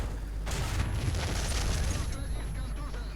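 Gunfire and booming battle noise from the War Thunder tank combat game, a dense continuous rumble of shots and explosions throughout with no clear gaps, fairly loud and steady.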